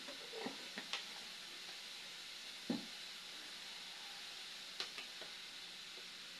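Takway (lotus root) being sautéed in a pan with a little sugar gives a quiet, steady sizzle, with occasional light stirring clicks and taps scattered through it and no one talking.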